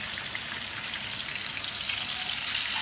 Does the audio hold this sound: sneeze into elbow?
no